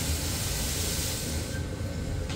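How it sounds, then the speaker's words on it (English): Steam hisses steadily through the cylinders of a stationary steam engine being warmed through at an industrial steam museum, a loud, continuous broadband rush that eases slightly near the end. "There we go, we've got steam blowing through on that one, which is what we want."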